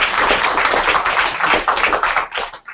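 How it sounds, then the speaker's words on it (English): An audience claps in a sustained burst of applause at a talk on government finances, loud and dense, then thinning and tapering off near the end. "let's give an audible round of applause."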